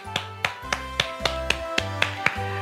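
Church congregation at a Wednesday worship service clapping in unison, about ten sharp, evenly spaced claps in a steady rhythm over a sustained low organ or keyboard tone.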